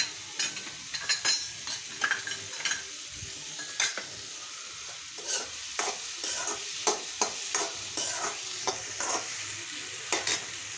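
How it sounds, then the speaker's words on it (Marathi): Tomatoes and mixed vegetables frying in a pan for tawa pulao, with a steady sizzle under repeated stirring scrapes and light clinks of a spoon against the pan, close and continuous. "टोमॅटो थोडा परतून घ्यायचा 2 मिनिटं"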